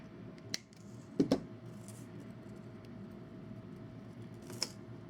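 Jewellery wire is snipped with cutters during a wire-wrapped bracelet project, giving a couple of small sharp clicks close by in a quiet room.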